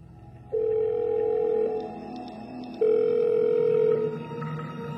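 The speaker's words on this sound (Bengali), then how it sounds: "অলির কথা মতোই সৌনক শ্রাবন্তীকে ফোন করলো।" Outgoing phone call ringback tone, two long steady tone bursts separated by a pause, clear and close with a faint electronic hum between rings.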